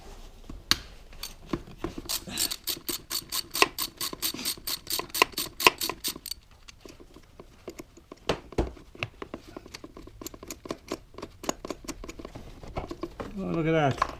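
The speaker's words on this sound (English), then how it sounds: "extension, 13mm, ratchet, lefty loosey" A ratchet on a 13mm socket and extension turns an engine bolt between the intake runners of a Porsche Boxster 986, giving fast, crisp rapid clicking in bursts, with softer scattered clicks and handling noises, close up and alone.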